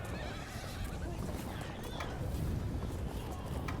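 Cavalry horses in a Medieval Total War battle, with galloping hooves and repeated neighs under a constant battle din while someone talks over them.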